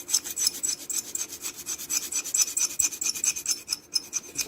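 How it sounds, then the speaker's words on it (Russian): A gasket seat on a Jofemar boiler being scraped by hand with a screwdriver-type tool: steady, rasping back-and-forth strokes in a continuous rhythm, close and fairly loud, with no talking. "Скоблим место посадки прокладки."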